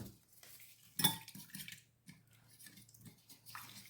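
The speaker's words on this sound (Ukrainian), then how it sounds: "Це все я зараз замішаю, перемішаю" A spoon scrapes and clinks against a bowl in quiet, irregular strokes as thick yeast dough is stirred and mixed, close up with no talking.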